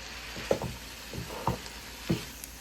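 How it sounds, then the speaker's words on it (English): Garlic and red onion frying in a pan, a soft steady sizzle broken by three distinct stirring scrapes and clacks spaced about a second apart, close and fairly quiet. "Garlic is releasing its flavors. Red onion is glazing."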